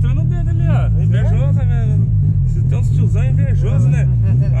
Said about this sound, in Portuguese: Tá vendo que o carro é velho, o carro tem que acelerar.